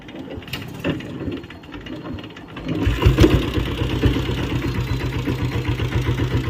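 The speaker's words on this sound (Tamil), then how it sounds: "பம்ப் பண்ணி ஸ்டார்ட் பண்ணுறது இந்த வண்டி" A diesel Royal Enfield Bullet is started by pumping, with a few uneven thumps before the engine catches, then it settles into a loud, steady, rhythmic idle with close mechanical chatter.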